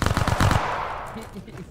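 Machine gun fire in a milsim video game: a rapid burst of about a dozen closely spaced loud shots lasting half a second, cutting off abruptly and leaving a fading echo with faint background noise.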